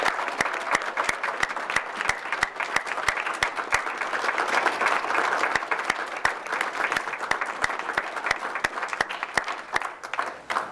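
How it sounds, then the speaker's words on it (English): Applause from the audience at a public school board of education meeting honoring a retiring colleague, steady and fairly distant, many hands clapping evenly through the whole stretch. "If you could do another round of applause for Gretchen Gerber"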